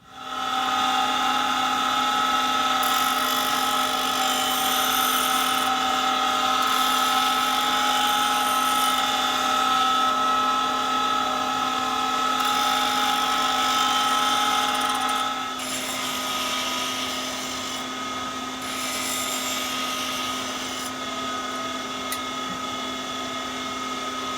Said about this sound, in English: I've finished now with the dry grinder.